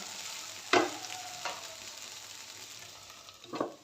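Okra (bhindi) sabzi with peanut powder cooks in a pan, giving a low, continuous sizzle. A sharp spatula clack sounds early on, another comes near the end, and softer stirring scrapes fall in between.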